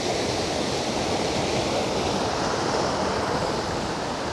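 A strong river current rushes steadily, a dense, loud, unbroken roar of flowing water close by with no pauses or voices.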